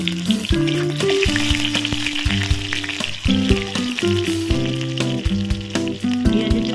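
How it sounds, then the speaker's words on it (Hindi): Onions frying in hot oil with panch phoron, a loud continuous sizzle with crackling and a busy clatter of tones, steady throughout. "एबे आमे पंचफुटन फुटईदेले से पियाज टी पकईदेले।"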